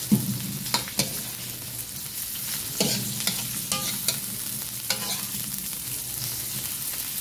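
Onion and lemongrass sautéing in a hot pan for a mussel tinola, a steady close sizzle broken by several sharp clinks and scrapes of stirring, with no talking.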